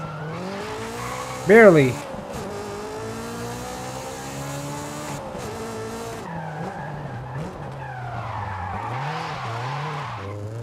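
Car power-sliding with loud squealing, skidding tires in Forza Horizon 5, a sharp screech near the start followed by a steady engine drone and further tire noise, with a brief spoken word.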